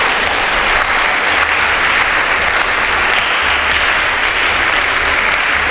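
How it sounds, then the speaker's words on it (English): An audience at a school debate claps hard and steadily for the speakers, a loud, close, uniform wash of hands with no voices over it. "A round of applause for our speakers."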